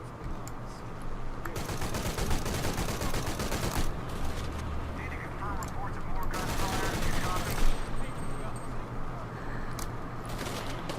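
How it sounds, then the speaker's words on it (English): Machine gun fire in Shadow of the Tomb Raider, dense sustained bursts of rapid gunshots rattling loudly throughout, with brief changes in intensity and no clear pauses. "Let's go ahead and grab our machine gun."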